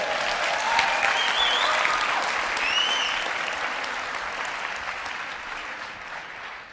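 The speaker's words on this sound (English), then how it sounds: "Give Albert a big round of applause" Steady audience applause at a motivational seminar, a thick wash of clapping with a few whoops mixed in, holding even and then gradually tapering off.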